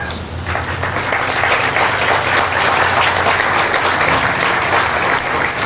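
A crowd at a housing grand opening ceremony claps in a steady, full round of applause that holds at an even level throughout.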